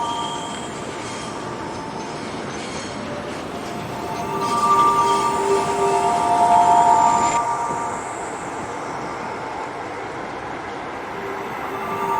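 A train rumbles steadily across a railway bridge over the River Tyne at Gateshead, opened in 1906, wheels clattering, with a high metallic squeal rising in the middle before the steady rolling noise continues.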